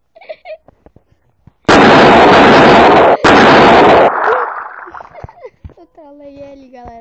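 In a Fortnite Creative match, a game bomb goes off as two loud, sustained blasts in quick succession, then a rumbling decay, with excited voices chattering before and after.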